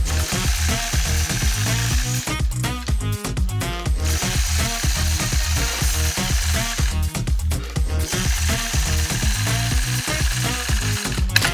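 A quilting machine stitches with a long-arm ruler in rapid, even mechanical bursts, pausing briefly twice, a busy clattering rhythm heard up close with no talking.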